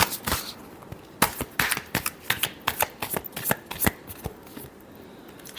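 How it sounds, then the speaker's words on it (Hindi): Tarot cards are shuffled by hand in a rapid series of crisp riffling bursts, close and clear, with a steady rhythm that slows near the end. "last shuffle"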